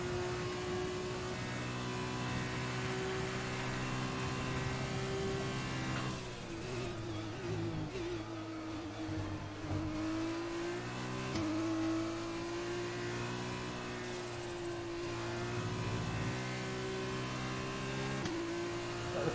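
A Formula 2 race car in the F1 2020 video game runs a flying lap in sixth gear, its engine droning steadily at high revs, with pitch dips and climbs as it brakes and accelerates through turns, alone and continuous.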